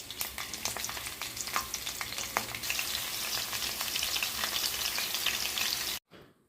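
Green chillies fry in hot oil in a pan for egg fried rice, a close, dense crackle and sizzle with occasional stirring pops that continues steadily before stopping abruptly near the end.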